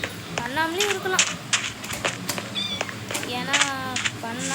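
A cat meows repeatedly in Minecraft Pocket Edition, several short rising and falling mews close by over a soft game background, with a person talking in between.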